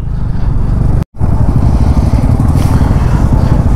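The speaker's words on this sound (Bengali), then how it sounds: "তো আমরা ফাইনালি 16টা বাইক এখন এগোচ্ছি টুয়ার্ডস কলকাতা।" A group of Honda H'ness motorcycles rides together on the road, a loud, close, steady engine drone with wind rush that cuts out for an instant and then carries on.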